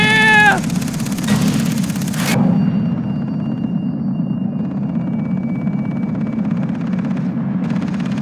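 Far Cry 3 gunfire during a firefight, a rapid burst of shots up front over a constant low engine drone, followed by a quieter stretch with faint high tones.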